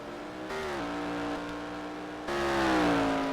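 Race cars in a community racing game event roar past one after another, engine pitch sliding down as each passes, loud and close with a sharp new surge near the end.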